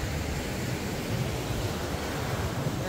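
Steady broad rush of sea waves washing nearby at Boscombe Beach, Bournemouth, constant and fairly loud, with wind blending in and no voices.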